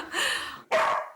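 A dog gives two sharp, loud barks in quick succession, close by, the first longer and the second clipped.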